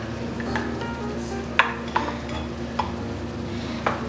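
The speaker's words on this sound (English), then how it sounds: "now we will now put the potatoes into our meat to cook" Potatoes cook with meat in a pan for Mexican food, a low steady sizzle under the scrape and stir of a utensil, with a few sharp clicks against the pan spaced through the stretch.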